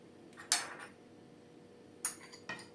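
Cheese set down onto a plate, heard as a few light ceramic clinks and taps, close by and spaced apart over quiet background, with no talk.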